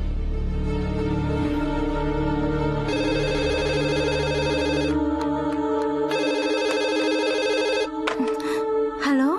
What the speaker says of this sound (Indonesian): Makanya telepon Bi Sofi aja, Pak.